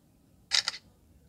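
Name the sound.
Samsung Galaxy A32 rear camera shutter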